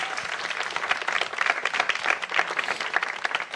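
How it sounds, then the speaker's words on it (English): An audience at a Breast Cancer Awareness Month lighting ceremony gives dense, steady applause that fills the whole moment, moderately close, with no talking. "Can we give everyone else a round of applause that we celebrated tonight?"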